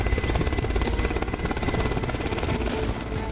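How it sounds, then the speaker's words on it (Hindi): A swarm of around 25 drones flies over Jhansi ahead of a prime ministerial visit, making a dense, continuous buzzing whir with fluttering rotor pulses that stays loud and steady. "आप झांसी के आसमान में उड़ते इन ड्रोन्स की गिनती कर सकते हैं?"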